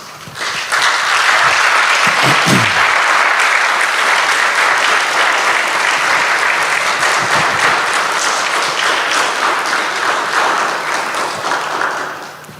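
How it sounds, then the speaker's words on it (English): Graduation audience giving a hearty round of applause for supervisors, a loud, dense wall of clapping that swells in quickly and holds steady for about ten seconds before easing off, with a brief voice early on. "we'll give you a hearty round of applause"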